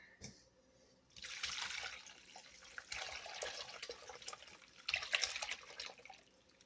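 Mozzarella curds and whey poured into a cheesecloth-lined colander, a sustained splashing gush of liquid that swells and surges, then trickles and drips as it drains, close and moderately loud.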